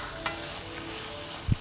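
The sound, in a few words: tomatoes frying in a pan for paneer butter masala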